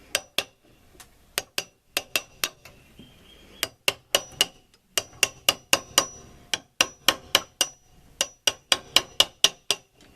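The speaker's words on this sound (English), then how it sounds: "That's why I tap it rather than just whack at it, because I want to be in control of the chisel" A chisel is tapped into wood to cut a notch for heavy shelves, a steady run of sharp, close mallet knocks in short bursts with brief pauses between groups.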